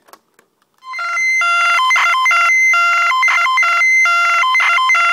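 A bright electronic melody loops loudly from a tape deck on a ZX Spectrum +3, heard through the headphone socket, a few faint knocks coming just before it starts.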